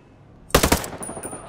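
Unsuppressed gunfire in a tactical shooter: a short, sharp burst of a few loud, close rifle shots cracking in quick succession, then a fading echo and faint clinks.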